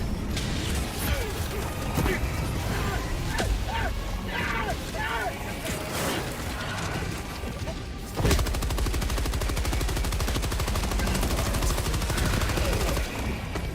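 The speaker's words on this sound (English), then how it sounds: "I need to call down my machine gun again." Machine gun fire in the video game Helldivers 2, with scattered shots and impacts early on, then a long, rapid, continuous burst of automatic fire amid other battle noise.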